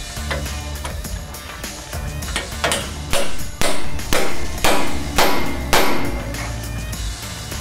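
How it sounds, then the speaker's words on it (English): A socket is hammered onto a shim while a Carli 4.5-inch pintop is installed, making a run of sharp metallic strikes that come faster and louder toward the middle and ring briefly after each hit. "you can grab your socket and you're gonna hit the shim until you hear a change of tone"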